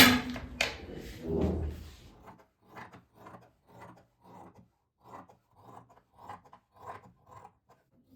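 Scissors cutting along a marked sewing pattern, a run of short, soft rasping snips in a quiet room, each cut brief and evenly spaced, after a louder burst of handling noise at the start.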